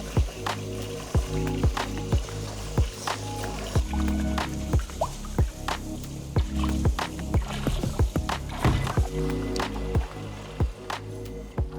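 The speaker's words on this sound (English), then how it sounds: "to wash your sushi rice, always need to be with the cold water" Sushi rice being washed by hand in cold water, wet squishing and dripping splashes repeating in an irregular rhythm, close and fairly loud, with no voices.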